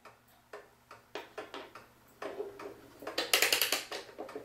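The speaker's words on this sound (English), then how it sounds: "Okay, we got the clock going." A vintage pendulum kitchen clock, freshly cleaned and oiled, ticks steadily at close range, each tick crisp and regular, with a brighter, louder metallic rattle of the mechanism partway through.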